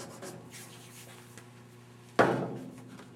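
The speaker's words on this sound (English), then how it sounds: "Just scrape some of the glue from the plug dams that we used." A knife scrapes dried glue off a plugged bowling ball: a soft rubbing at first, then a sharp, loud scrape near the end that fades out.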